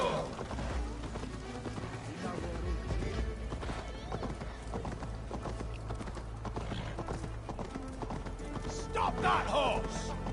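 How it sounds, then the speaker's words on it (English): Horse hooves galloping in Assassin's Creed Valhalla, a steady rhythmic clip-clop running throughout, mixed with game sounds and voices speaking over it. "Stop that horse!"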